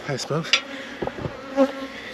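Honey bees buzzing around an open hive during a solo inspection, their uneven drone rising and falling close by with a few sharper passes of individual bees.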